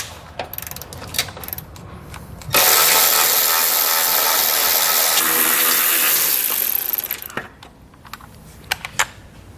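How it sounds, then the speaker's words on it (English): A ratchet with a 12mm socket spins out bolts on a 2018 vehicle during a trailer hitch install, heard as a dense, loud run of fast clicking for several seconds, framed by a few scattered taps and clunks before and after. "So I'm going to grab a 12mm socket, and we're going to pull all 4 of those out."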